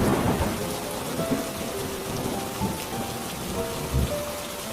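Heavy rain pours down in a thunderstorm over a forest hut, a dense constant roar of drops with rumbling thunder swelling in the background and a sharper crack near the end.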